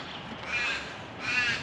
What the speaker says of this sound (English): crows are having a good time.